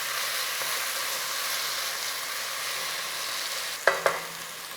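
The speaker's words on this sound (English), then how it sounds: "what we're doing now is cooking the tomatoes till they go a little bit mushy" Tomatoes cook with a steady soft sizzle in a pan for aloo gobi, and near the end a spoon stirs them in a few sharp scrapes and clinks.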